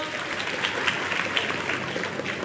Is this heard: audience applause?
yes